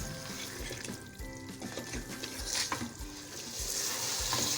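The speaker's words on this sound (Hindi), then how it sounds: "अब हम तमाम पाए इसमें ऐड कर देंगे, इसको हम भूनेंगे अच्छे से मसाले के साथ 4 से 5 मिनट हाई फ्लेम पे।" Paaye frying with garlic and masala in a pan on high flame, a steady close sizzle with occasional stirring clatter throughout.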